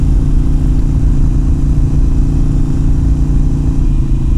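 Harley-Davidson Iron 883 motorcycle cruising along Route 66, its engine a steady, loud low-pitched drone with constant rumble and wind, no change in pace throughout.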